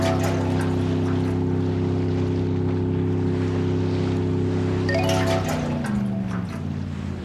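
Rescue boat motoring across the sea among rocks while collecting floating diesel cans in Elias: Operasjon Lunvik, a steady loud droning engine with wind and water noise that dips in pitch near the end.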